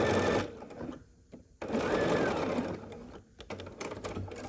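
Sewing machine running a quarter-inch seam across a quilt block, with two steady close bursts broken by brief pauses.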